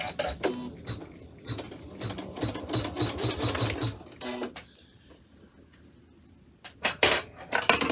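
Embroidery machine stitching a pretty and posh pouch design, a fast rhythmic needle chatter in two bursts separated by a quiet pause, with a few clicks and thumps of handling near the end.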